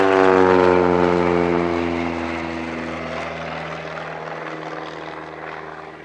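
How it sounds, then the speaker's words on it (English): A radio control model aircraft flies past at an air show, its engine a steady buzzing drone with a strong harmonic whine that slowly drops in pitch and fades as the plane moves away. "Wouldn't be Vinton County without radio control aircraft, period."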